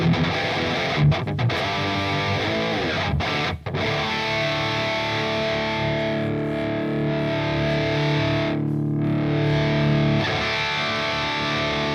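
Heavily distorted electric guitar run through a Cameron Atomica amp simulator, chugging riffs with brief stops and sustained chords, loud and dense throughout with no talking.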